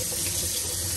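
Tap water runs steadily into a container being rinsed out while preparing Trinidadian drinks, a close continuous splashing stream with no voices.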